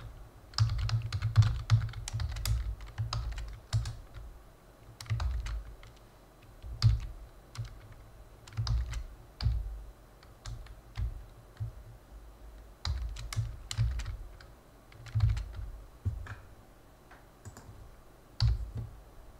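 Irregular bursts of typing on a computer keyboard while adding code headers, close and clear, with quick clicking runs separated by short pauses and no talking.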